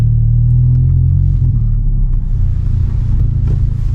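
2023 Acura Integra engine and road rumble heard from inside while driving, a loud, steady low drone that softens slightly as the throttle is released, with no talking.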